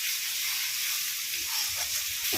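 Spice paste (masala) for a Kashmiri-style potato dum sizzles and fries steadily in a pan, a continuous close hiss with faint stirring scrapes toward the end.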